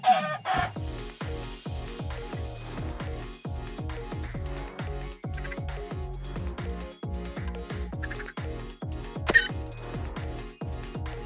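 A chicken in the video game Minecraft clucks over and over in short, quick, evenly paced calls that run continuously with no talking.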